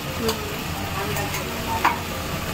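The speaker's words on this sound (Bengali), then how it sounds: "চালটা ভেজে আমি এখন আদা বাটা কাঁচা লঙ্কা বাটা দিয়ে দেবো" Rice sizzles and fries in a pan with ginger paste and green chili paste being stirred in, a steady close crackle with a few soft scraping touches and no talk.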